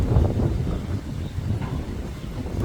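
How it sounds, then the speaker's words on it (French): Strong wind gusts blow outdoors around a pet parrot, buffeting the microphone with a low, rumbling roar that surges and eases throughout. "Il y a des grosses rafales."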